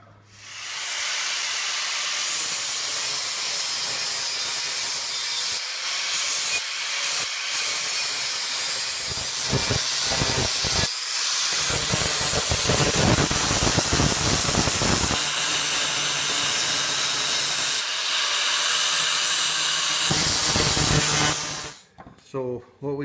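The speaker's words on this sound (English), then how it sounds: "give him a quick rough grind with the bench grinder" Bench grinder rough-grinding a John Deere 60D mower blade: a loud, continuous hissing grind with bursts of rasping contact, cutting off abruptly at the end.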